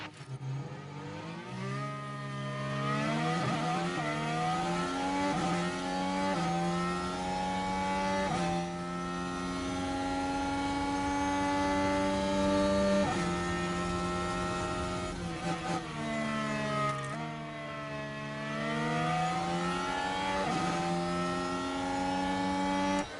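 A Formula 1 race car engine from the racing game F1 Manager 23 whines and revs loudly and continuously, its pitch rising and falling through gear changes with no talk over it.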